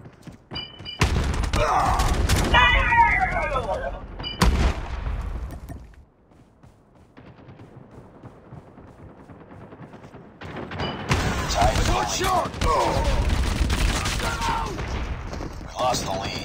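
Gunfire in the mobile shooter Call of Duty: Mobile: loud, dense bursts of rapid shots and blasts crowd the opening seconds, a quieter stretch follows, then heavy sustained firing returns through the end.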